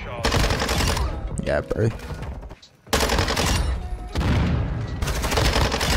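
Bizon submachine gun in Call of Duty MW2 firing in loud, dense automatic bursts. A near-continuous stream of rapid shots is broken by a short lull around the middle, then fire resumes, with a brief spoken exclamation.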